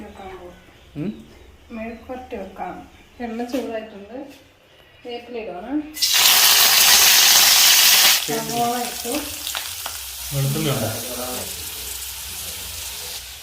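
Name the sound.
stir-frying chopped koorka (Chinese potato) in a pan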